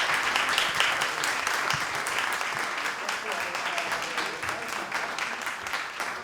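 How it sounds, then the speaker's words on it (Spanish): An audience claps steadily for the participants at the close of an art talk with painter Rafael Canogar, a dense, even round of applause lasting several seconds. "Un aplauso para todos"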